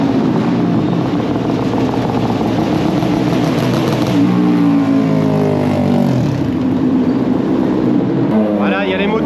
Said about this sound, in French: il y a les Moto 2 qui vont partir pour leurs essais